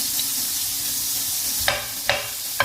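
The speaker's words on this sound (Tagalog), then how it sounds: "fry the onion first into butter and oil together." Onion frying in a mix of butter and oil, a steady broadband sizzle with three sharp stirring scrapes near the end, close and alone without talk.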